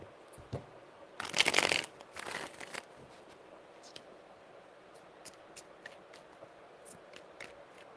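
Tarot cards are riffled and shuffled up close in a quiet room, one loud burst of shuffling followed by a shorter one, then soft scattered card taps.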